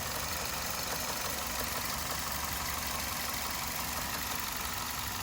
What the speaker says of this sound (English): the engine is shifting because the mounts ain't doing their job, and it's causing that little noise